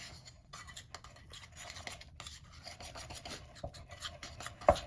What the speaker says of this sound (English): And we'll just slowly mix it all back up in.